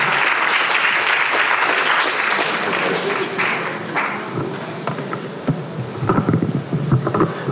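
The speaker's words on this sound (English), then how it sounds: "with a resounding round of applause, let's welcome Professor Ellis Owusu-Dapo." An audience gives a loud round of applause welcoming a professor at a Ghanaian graduate students' research fund event, a dense roar of clapping that gradually thins into scattered claps and background murmur.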